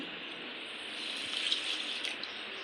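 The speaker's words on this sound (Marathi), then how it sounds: "नंतर मी तांदळात पाणी ओतत आहे" Water is poured over rice being soaked for idli batter, a quiet, steady trickling splash that runs throughout.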